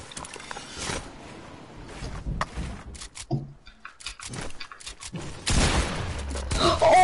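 Gunfire in a shooter video game, scattered shots and mechanical clicks with a heavier burst of fire near the end, mixed with game sounds and brief voices.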